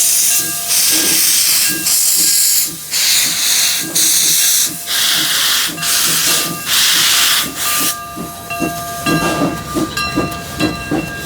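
Steam locomotive number 2 pulls out at Hesstons Steam Museum, with loud bursts of hissing steam and chuffing exhaust in an uneven rhythm, a sustained whistle-like tone, and rattling railcar noise building near the end.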